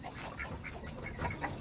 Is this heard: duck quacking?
yes